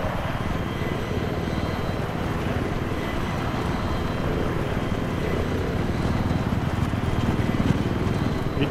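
Helicopter in Battlefield 3 multiplayer, Armored Kill, a steady loud rotor-and-engine drone that fills the scene continuously without a break and swells slightly toward the end.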